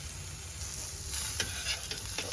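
Halved hot dog pieces sizzle and fry in a pan, giving a steady close hiss with a few louder crackling pops near the end.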